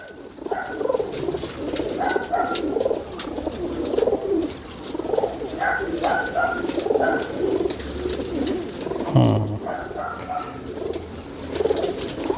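Purebred pigeons kept by a fancier coo in low, repeated, rolling phrases, close and continuous, with a few faint chirps and rustles around them.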